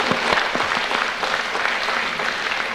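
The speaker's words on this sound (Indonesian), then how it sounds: "kita beri tepukan untuk Profesor" An audience at a 1996 public lecture claps steadily for a professor, a dense, even wash of applause from a hall crowd with no voices over it.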